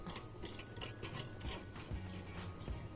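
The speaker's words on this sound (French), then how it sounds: "Donc je gratte bien comme ça." A utensil scraping food in a pan while cooking, steady soft rasping and rubbing strokes, close and fairly quiet, with no talking.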